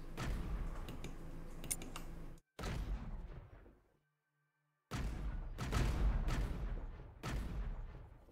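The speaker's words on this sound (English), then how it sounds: "My cannons do not seem to be having all that much of an impact on it." Spaceship cannons fire in bursts at an AI boss in the space game Avorion, loud dense volleys of blasts broken by brief silent gaps, with no talking.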